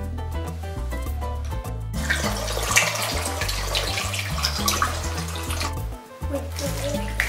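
Tap water runs steadily into a container for a toy submarine, a continuous broadband splash heard over loud background music throughout.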